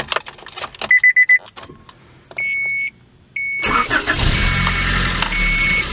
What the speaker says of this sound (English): let's get in, fire it up.